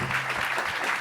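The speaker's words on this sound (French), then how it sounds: "Vous pouvez applaudir." Audience at a French forum on renewable energy and biodiversity applauds, a brief burst of steady, fairly soft clapping from a seated crowd.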